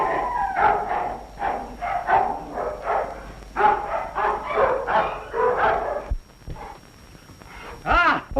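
Several dogs bark in rapid repeated bursts, loud and close, in a 1934 film scene. The barking runs continuously, then stops briefly before a final howling yelp.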